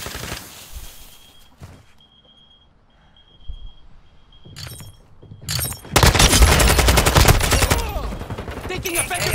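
Gunfire in Modern Warfare 2: a few isolated shots and bursts over a quieter stretch, then a sustained, loud barrage of rapid automatic fire close by that fills the final few seconds.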